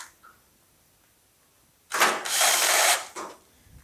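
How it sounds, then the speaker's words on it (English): Power drill driving a screw into a car body panel on a 1940 Ford Coupe build, a short loud whirring burst of about a second followed by a brief second spin, in a quiet shop. "I should get a screw and a drill"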